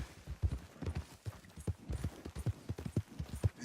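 Horse hooves clip-clop in a steady, even rhythm, close and clear, in the Red Dead Redemption 2 video game.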